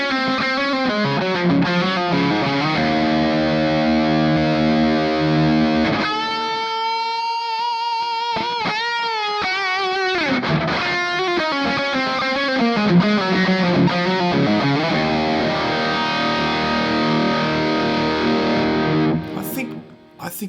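An electric guitar through a Boogie lead amp model in Overloud TH-U plays a saturated, sustained lead with bent notes and held tones, heavily distorted and close, with no talking over it.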